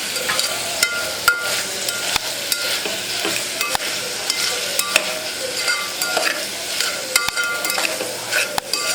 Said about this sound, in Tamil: அதே ஃப்ரை பண்ணுவோம்